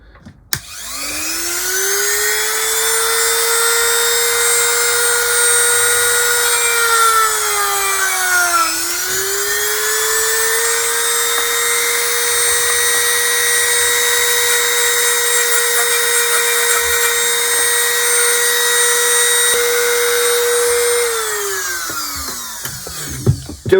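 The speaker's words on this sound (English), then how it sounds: "I've just got the Dremel with a sanding disc in." A Dremel rotary tool fitted with a sanding disc whines steadily at high speed, loud and close, dipping briefly under load partway through before spinning back up and winding down at the end.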